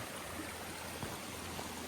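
A small woodland stream flows in a soft, steady babble while a hiker crosses, faint and continuous with no talking.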